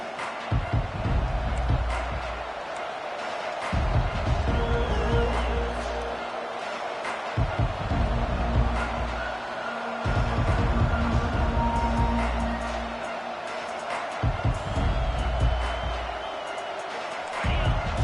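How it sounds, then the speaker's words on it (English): Stadium crowd noise from a college football video game, Oregon against Miami, rises as a broad roaring cheer in recurring surges, with a commentator talking over it throughout. "This crowd bringing an ear-splitting welcome to their visitors."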